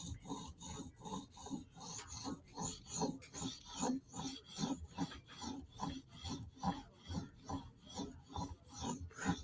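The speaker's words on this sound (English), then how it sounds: "Light touch, just giving it a little polish, just a little kiss, shine it up." A knife blade is lightly polished on a sharpening stone during sharpening, giving a soft, quiet rasping rub in a steady back-and-forth rhythm of even strokes, close and alone.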